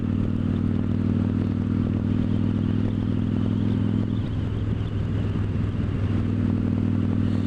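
A Victory Judge motorcycle engine drones steadily under way, a low, even rumble with a strong, constant hum that holds through the whole stretch, close and loud, with no voices.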